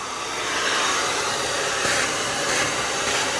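Steady, loud whooshing drone of a vacuum machine cleaning a luxury vinyl tile floor on stair treads and risers, rising slightly after a moment and then holding constant, with no voices.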